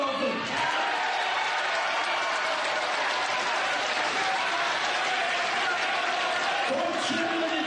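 Wrestling crowd cheering and applauding at a WrestleMania 33 event, a steady loud wash of massed noise that runs unbroken for several seconds with no pauses.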